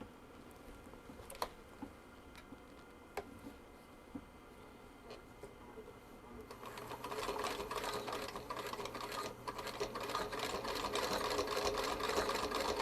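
A sewing machine stitches folded wool onto a fabric needle book. Faint clicks come first, then a quiet, steady whirring run with rapid stitching pulses starts partway through and continues to the end.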